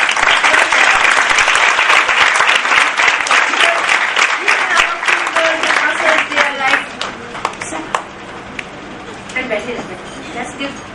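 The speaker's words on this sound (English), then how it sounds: "don't you think you should give yourself a big clap" Workshop participants at a Montessori training session clap together in a loud, dense burst of applause that thins out toward the end, with scattered voices heard under it.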